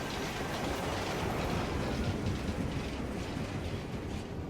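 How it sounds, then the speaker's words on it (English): A train in the video game Assassin's Creed Unity rumbles past up close, a dense, steady roar of rolling wheels and clatter that holds at constant loudness throughout, with no voices. "Avoid this train."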